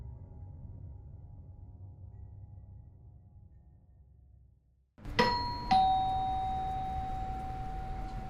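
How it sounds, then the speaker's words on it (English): A house doorbell rings once, a bright chime followed by a second sustained tone that lingers, heard fairly close after a quiet low-level background hum cuts out. "rings the doorbell of a house"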